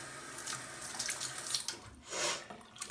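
Tap water runs steadily into a sink, a close splashing hiss that swells briefly toward the end.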